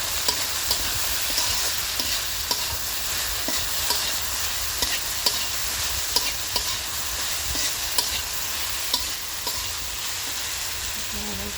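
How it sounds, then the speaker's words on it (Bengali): Okra frying in a pan with a little turmeric sizzles steadily while a utensil stirs it, making soft scrapes and occasional taps against the pan, with no voices. "তারপরে একটু লাড়া দেবো।"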